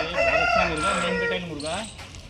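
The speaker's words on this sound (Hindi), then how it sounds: "बताइए इसके बारे में क्या कहता है मुर्गा ये?" A double-boned Madras aseel rooster, size 17.5, crows loudly and close by in one long, rising and falling call.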